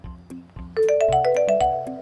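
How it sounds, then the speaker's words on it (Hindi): A mobile phone ringtone plays loudly and close, a bright repeating electronic melody that kicks in partway through after a few softer tones, in a domestic comedy scene. "फिर फोन केलके।"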